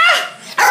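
A dog gives two short, loud yelping barks close by, with a brief quiet gap between them, right after being accidentally tripped over at home.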